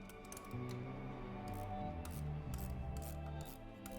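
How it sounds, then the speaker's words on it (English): A wrench works loose the size 13 nut on an espresso machine's solenoid valve, giving soft, close metallic rasping and ratcheting clicks over a faint hum. "So it's easier if we just undo that nut here."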